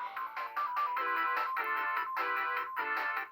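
Bright electronic ring-collect chimes from Sonic 1 in debug mode play as a rapid string of sparkling bursts over about three seconds, fairly quiet and without voices.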